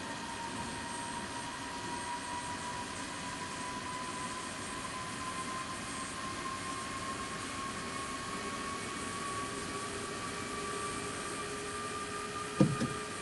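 An F-16C Fighting Falcon jet engine spooling up during startup in the DCS flight simulator, a steady whine with droning tones held evenly throughout, ending in a short click.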